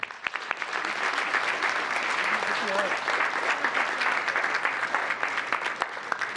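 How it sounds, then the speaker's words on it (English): A big round of applause for a presenting group at a gathering, dense sustained clapping from a crowd that starts abruptly and holds steady, with some voices faintly mixed in. "Let's give them a big round of applause"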